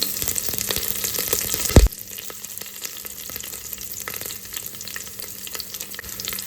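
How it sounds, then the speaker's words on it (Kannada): Green and red chillies fry in ghee with a steady, close sizzle and a sharp stirring clatter early on, then continuous bubbling hiss with no talk. "ಇವಾಗ ಇಷ್ಟನ್ನು ಚೆನ್ನಾಗಿ ಫ್ರೈ ಮಾಡ್ಕೋಬೇಕು ನಾವು"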